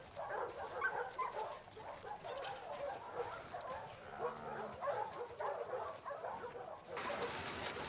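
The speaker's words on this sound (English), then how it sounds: "Hey, you crazy dog." A dog in the video game The Last of Us Part II barks, yips and whimpers excitedly in short bursts, quiet and close, with brief voices and game ambience.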